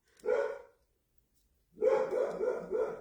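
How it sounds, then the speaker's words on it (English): A dog barks close by indoors, one short bark followed after a pause by a run of three or four quick barks, loud and with no talking over them. "I'm sorry about my dog barking."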